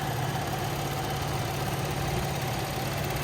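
The 3.6 liter V6 of a 2017 Buick Enclave FWD with 129,000 miles idles with a steady, smooth, even hum and low rumble, close and unbroken, with no one talking.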